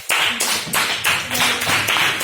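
Classmates clapping for a pupil's school presentation on aquatic ecosystems, a brisk, steady round of hand claps in bursts close by, filling the classroom.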